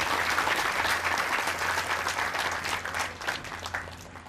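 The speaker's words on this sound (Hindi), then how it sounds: "जितनी जोर से ताली बजाओगे उतनी ज्यादा भूख लगेगी" A crowd at a Hindi religious discourse by Guru Hemanand claps loudly and continuously before a meal, a dense wash of hands with a faint low hum beneath and scattered murmurs.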